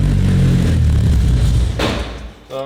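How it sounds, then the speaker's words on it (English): A race car engine cranking on a small, cheap, lightweight lithium battery: a steady, loud starter churn that runs for a couple of seconds, then fades, followed by a brief rise of engine sound at the end. "I'm gonna do it just cranking now."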